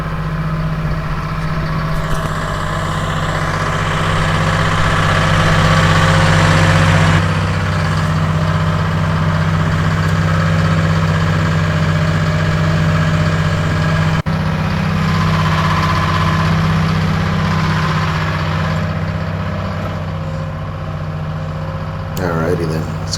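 A skidder's diesel engine idles steadily nearby, a constant low rumble with a mid-range drone that holds for the whole stretch, loud and unbroken, with a person talking over it.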